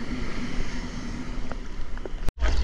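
Strong wind blows outdoors over an open field of good soil, a loud steady rushing roar battering the microphone before a brief dropout.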